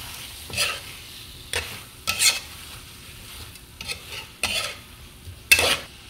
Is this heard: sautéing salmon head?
yes